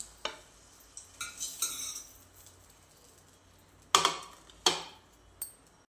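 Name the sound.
stirring and sautéing masala in a kadhai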